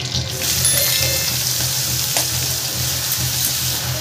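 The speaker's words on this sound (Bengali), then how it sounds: "মাছ ভাজার তেলটার মধ্যে আমি দিয়ে দেবো কেটে রাখা লাউগুলো।" Chopped bottle gourd sizzles loudly in leftover shrimp-frying oil for lauki chingri, a steady close crackle and hiss with a soft stirring clatter.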